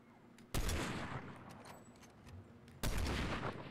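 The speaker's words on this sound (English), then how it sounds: "You're not actually gonna shoot at me?" Two loud gunshot blasts in the video game Fortnite, each a sharp close report with a lingering rumbling tail, about two seconds apart.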